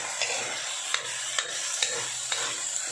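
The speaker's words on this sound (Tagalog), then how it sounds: "So, inikos-nikos lang." Eggplant and ground meat stirred in a hot pan, a steady sizzle broken by five or six sharp scrapes of the utensil at a loose, even rhythm, close and fairly loud with no talking.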